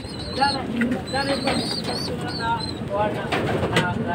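Several racing pigeons coo repeatedly at close range, soft throaty calls overlapping with one another against a steady background murmur.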